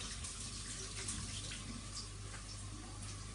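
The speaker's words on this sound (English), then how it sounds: "Let me wash my hands really quick." Kitchen tap running steadily while hands are washed at the sink, a continuous close hiss of flowing water with faint splashes, no talking.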